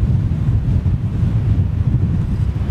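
Strong wind buffeting a microphone outdoors near an airfield approach, a continuous loud low roar with gusty fluctuations, no speech.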